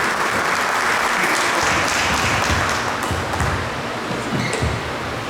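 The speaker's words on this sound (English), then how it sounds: "A round of applause, please." Loud, dense applause from an embassy event audience greeting a keynote speaker, a continuous wash of many hands clapping close by that fades slightly near the end.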